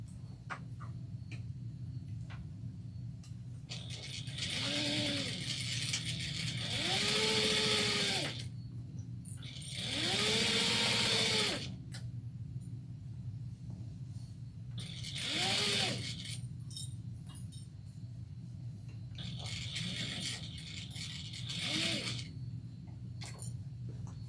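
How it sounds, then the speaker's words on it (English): A home sewing machine stitches a seam at 3/8 inch around a chevron shoulder bag in several bursts of steady whirring, each a few seconds long, with short pauses between them and no voices. "we're going to sew around this at 3/8 of an inch"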